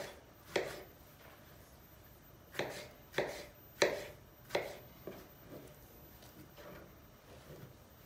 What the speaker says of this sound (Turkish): Domateslerin hepsini bir doğrayalım.